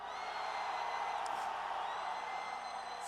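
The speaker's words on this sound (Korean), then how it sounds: "탄핵 무효를 원한다면 전방을 향해" A rally crowd demanding the impeachment be nullified shouts and cheers together, a broad sustained roar of many voices at a distance with a few higher whoops rising above it.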